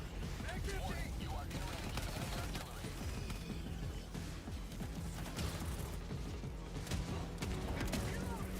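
Autocannon fire in Helldivers 2 thuds out as repeated heavy, booming shots within a dense, noisy battle soundscape, continuous and fairly loud throughout, with voices speaking intermittently beneath the gunfire.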